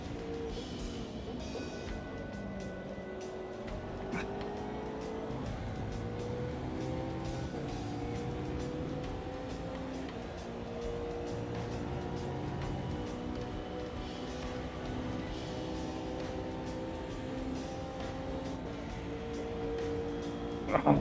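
Race car engines roar in the Automobilista 2 sim racing game during a hosted online lobby, with a Mercedes among the field, sustained revving engines shifting pitch up and down through gear changes for the whole stretch, loud and close, with no talk.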